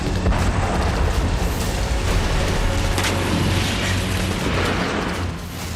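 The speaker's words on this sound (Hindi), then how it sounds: "रूस की आर्टिलरी यूनिट भी जबरदस्त तबाही मचा रही है।" Russian artillery fire and missile launches in war news footage, a sustained loud rumbling roar with a sharp burst about halfway through, fading slightly toward the end.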